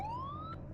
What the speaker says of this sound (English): That siren doesn't sound great, but that's B.